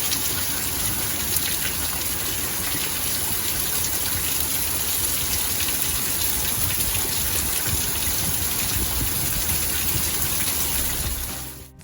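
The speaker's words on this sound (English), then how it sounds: "And we got rain." Steady, dense rain pours down on a Florida day, a continuous hiss and patter filling the whole stretch at an even loudness, with no talking, until it cuts off abruptly at the end.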